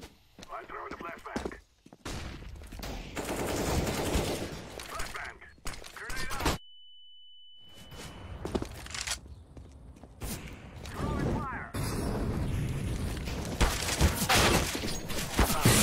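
Gunfire in the video game Deathloop: bursts of rapid shots and loud impacts come in irregular clusters, broken by a short silent gap, while someone talks excitedly over the action.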